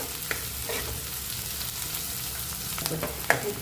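Chopped onions frying on a high flame, a continuous close sizzle with intermittent stirring scrapes that grow busier toward the end.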